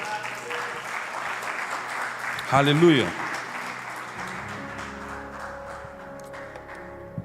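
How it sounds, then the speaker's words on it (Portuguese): Congregation clapping through a service at Igreja Renovo, a continuous crowd patter under a voice that calls out briefly, swelling for a moment midway before easing off as a sustained tone comes in. "Salva de palmas para os meninos."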